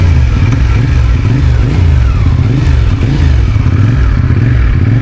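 A motorcycle with a stock exhaust pipe revs hard nearby in repeated throttle surges, a loud, pulsing, throaty roar with a faint clatter, and no voices.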